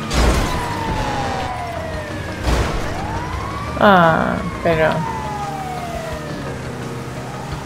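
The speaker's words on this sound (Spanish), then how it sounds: "la ambulancia" A video game ambulance siren in GTA V Online wails with sweeping, falling tones, a harsh honking burst cutting in midway, while someone talks over it.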